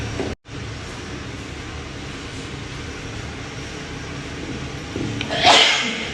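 A single sharp sneeze bursts out near the end in a home kitchen while eggs are being cooked, after a few seconds of quiet room tone.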